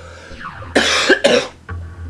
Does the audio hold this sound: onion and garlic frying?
no